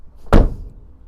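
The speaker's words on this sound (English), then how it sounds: "slam that door and it shuts like a safe" The door of a vintage Mercedes-Benz 300D, parked in a garage for years, slams shut with a single heavy, solid thunk up close, followed by a brief fading resonance.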